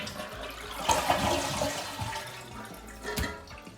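A toilet is flushed to drain its tank before a flush valve replacement, a close gurgling rush of water with sharp splashes and a second surge toward the end, no talking.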